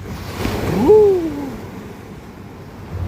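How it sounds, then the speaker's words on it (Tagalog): Ocean waves at Baler surge and crash against the shore with a broad rushing roar that swells and fades, along with a brief tonal whine in the background. "Yung lakas ng hampas ng alon"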